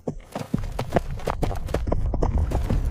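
Hooves clop on the ground in a quick, irregular rhythm, close and fairly loud, as a horse moves along.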